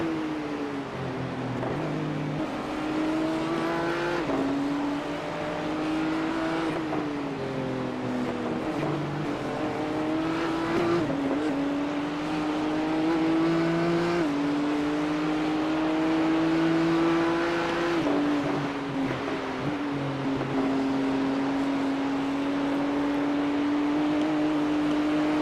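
A race car at the Nurburgring 24 Hours, heard from on board: a loud sustained engine note that climbs through gears, drops on lifts off the throttle and rises again, with wind and road roar underneath throughout.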